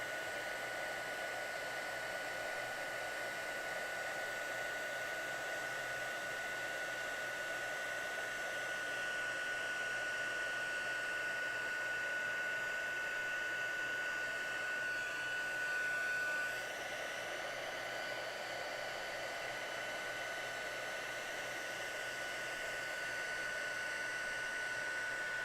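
A heat tool blows hot air in a steady, loud, unbroken whoosh that holds the same level for nearly the whole stretch, with only a short rise in strength partway through and no voices.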